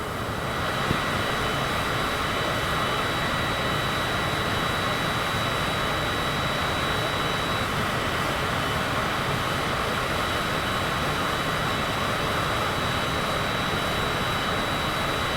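Cessna engine in Microsoft Flight Simulator on approach into Kai Tak, a continuous even drone with steady broadband hum and a thin high tone, unchanging throughout and alone.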